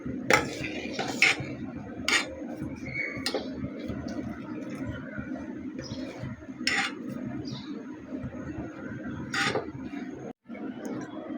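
Milk with sago being stirred in a pot, a spoon scraping and clinking against the metal in irregular strokes over a low, steady background, close-up with no speech.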